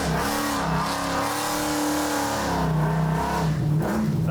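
A car on heated Mickey Thompson tires at a Québec auto-sport show accelerates hard, its engine note climbing and sweeping in pitch, loud and close, with a strong roar and no voices.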